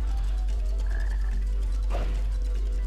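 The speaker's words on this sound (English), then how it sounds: "There's that black frog again." A black frog in the video game Sonic Heroes croaks over a steady low game hum, with a few rising chirps near the middle, loud and close.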